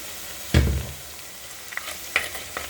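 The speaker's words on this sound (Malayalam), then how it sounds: "നമുക്ക് അതിനെ വഴറ്റിയെടുക്കാം." Turmeric-spiced masala for crab curry being stirred in a pan, with a few scraping strokes and a brief low thump of the spoon but little audible sizzle, faint and close.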